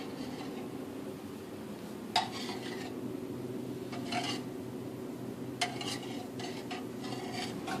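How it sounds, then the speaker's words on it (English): Cottage cheese curds being stirred in a pot warming toward 100 degrees: a soft background hum broken by three or four brief scraping strokes of a utensil against the pot, close and quiet. "we'll stir it every about 5 minutes or so"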